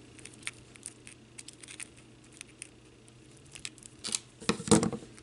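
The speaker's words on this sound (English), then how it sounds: "then I'm going to place my chain here and then cut it off about here" A small metal purse charm chain being cut, with faint light metallic clicks and jingles that build into a few sharp snips and rattles near the end.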